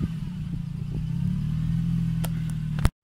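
A Lexus IS200 inline-six running rich on a Speeduino aftermarket ECU idles with a steady low hum and a slight rise in revs before cutting off abruptly.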